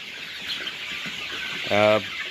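A Sonali hybrid chicken on a poultry farm gives a short cluck while eating fermented maize, over a steady background hum with faint farmyard noise around it.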